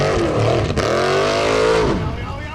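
Old-school small-block Chevy V8 powering a Formula Off-Road car at an Icelandic event in Akureyri, loud and close, revving hard with rising and falling pitch sweeps as the throttle works.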